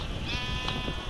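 A goat in a video game gives a single short bleat over a steady background hum, close and clear.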